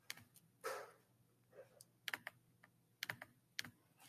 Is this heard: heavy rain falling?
no